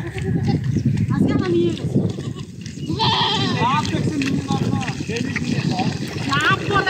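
Goats on a Teesta riverbank, ferried by boat across to graze, give several wavering bleats that rise above constant people's chatter and shuffling outdoor noise.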